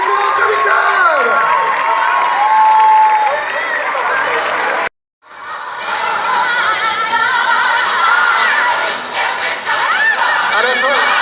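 A large Comic Con audience in Paris claps and cheers loudly and continuously, breaking off into silence for a moment before the applause and shouting surge back, with excited voices mixed into the crowd noise.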